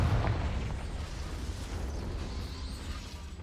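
A Confringo fire spell explodes in Hogwarts Legacy with a loud, booming blast at the start that settles into a steady, rumbling roar for a few seconds.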